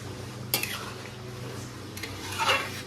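A metal spatula scrapes and stirs taro and prawn curry in a pan, with a couple of sharp clanks against the metal over a steady low background hum, close by.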